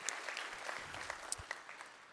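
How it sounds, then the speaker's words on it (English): A keynote conference audience applauds customers and partners. The clapping is faint and distant, spread thinly over a couple of seconds, with a few sharper claps standing out. "So please give our customers and partners a round of applause."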